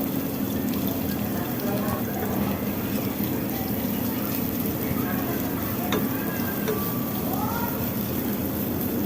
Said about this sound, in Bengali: এখানে আমি কিছুটা পেঁয়াজ বেরেস্তা করে নেব।